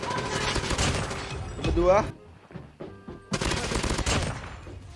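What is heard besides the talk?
gunfire in the video game Call of Duty Mobile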